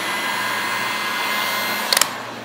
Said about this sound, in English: give it some heat, make sure there's no peel back